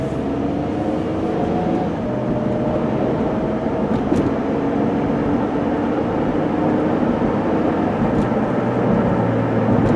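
A 2007 Chrysler Town & Country long-wheelbase minivan driving smoothly on the road, a steady engine hum with continuous tire and road noise from inside the cabin, no voices.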